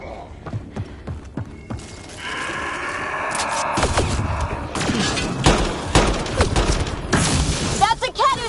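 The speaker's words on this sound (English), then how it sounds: "Shooting as fast as I can." Rapid gunfire and heavy thuds ring out in a sci-fi space battle game, dense bursts of shots and impacts piling up loudly with voices talking over the fighting.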